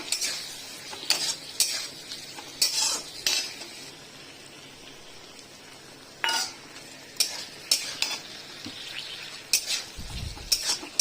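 Potatoes in a Bengali-style curry simmer and sizzle in a pan while a spoon stirs and scrapes against it in several short bursts with pauses, close and moderately loud, with no talking.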